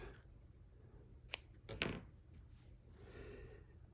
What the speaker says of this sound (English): I'm going to go ahead and cut this in half.